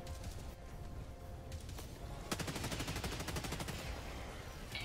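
Rapid automatic gunfire in the video game Helldivers 2, a dense rattling burst that starts midway and keeps going under steady game background noise.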